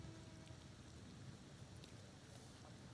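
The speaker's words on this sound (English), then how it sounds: "And it's bloody raining." Steady rain falling in The Thaumaturge video game, a dense, even patter that stays constant and moderately quiet without pauses.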